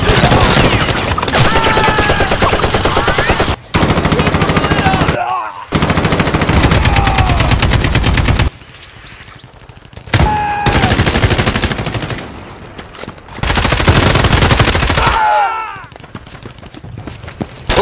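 Bursts of rapid machine gun fire in a plastic toy army men stop-motion battle, several long volleys separated by short pauses, loud and close with sharp ricochet-like whines.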